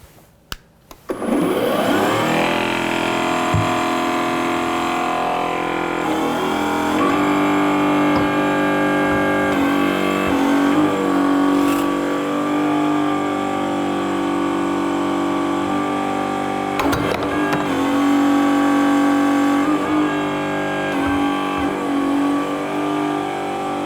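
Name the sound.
Enerpac EDCH decommissioning cutter hydraulic pump running and cutting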